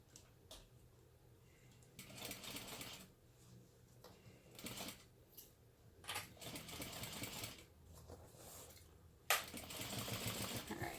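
A sewing machine runs in several short bursts of rapid mechanical stitching, separated by brief pauses and small clicks, fairly quiet overall.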